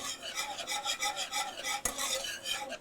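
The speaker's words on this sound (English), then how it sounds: "You mix this together till it comes to a boil." A whisk beats Coca-Cola cake mixture in a pot in quick, even strokes, a close rhythmic scraping and swishing with one sharp knock partway through and no voices.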